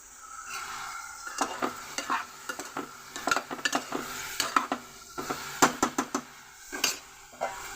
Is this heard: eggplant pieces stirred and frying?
yes